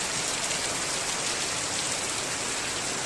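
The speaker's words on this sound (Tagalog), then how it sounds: "Ayan, ang lakas ng ulan" Heavy typhoon rain from Typhoon Tino pours down in Northern Samar, a dense, loud, unbroken hiss of rain on surfaces with no pauses or voices.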